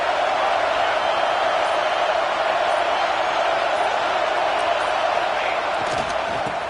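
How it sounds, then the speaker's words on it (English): A stadium crowd at a college football game between Notre Dame and Georgia fills the air with a dense, steady roar of cheering and noise that holds throughout. "This crowd knows this defense needs them right now."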